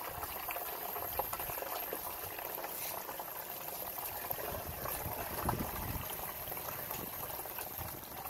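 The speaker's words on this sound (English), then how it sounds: "So I'm going to be using the water hose because that'll work much quicker to fill up this container." A garden water hose fills an 18 in rim self-watering container with a continuous rushing, bubbling stream of water, steady and close throughout, with no talking.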